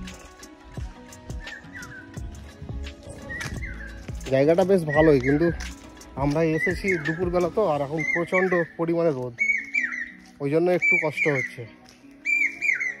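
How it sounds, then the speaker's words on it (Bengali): Birds call repeatedly in rocky hills strewn with boulders and burnt trees, bright whistled chirps recurring in short bursts while a person talks over them at close range. "পাখির আওয়াজ শোনো কত সুন্দর লাগছে,"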